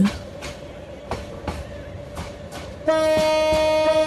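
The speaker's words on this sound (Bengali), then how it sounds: "তো ভাই আমাদের ট্রেন 39 কিলোমিটার বেগে চলছে।" A train in a Bangladesh train simulator game rolls along at 39 km/h with periodic rhythmic clunks, then a loud sustained horn blares in the final second, steady and close.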